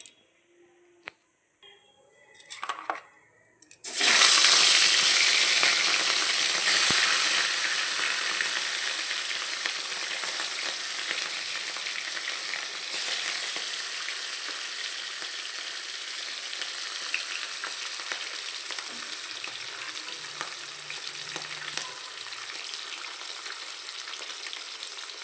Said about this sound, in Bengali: এই মাছগুলো তেলে ভাজবো।